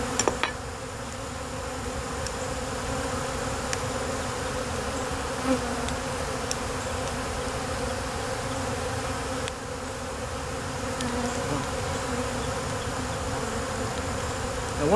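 Honeybees buzz steadily around an opened hive being inspected, a dense, even drone close by with occasional individual bees passing near.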